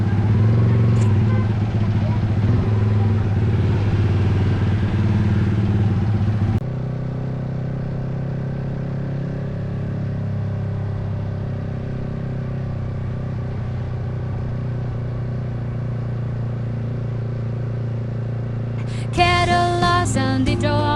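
A motorcycle with an open muffler idles and runs nearby with a loud, steady engine rumble. The sound drops slightly in level partway through, and a brief clattering burst comes near the end.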